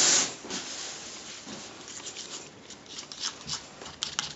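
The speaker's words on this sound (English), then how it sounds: "we'll take the fork and we'll mix that up" A fork whisking eggs in a bowl for homemade pasta, a close, continuous scratchy swishing with quick rapid taps and scrapes, fairly quiet with no talking.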